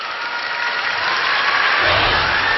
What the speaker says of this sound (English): The fans right now really, applauding the effort.